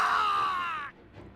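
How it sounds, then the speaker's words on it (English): A scream from the video game Hakuoki: Edo Blossoms rings out as a single sustained shriek with a slightly falling pitch, holding for almost a second before cutting off, with no talking. "A blood-curdling scream shrieked in the distance, followed by the grisly sound of flesh being split open."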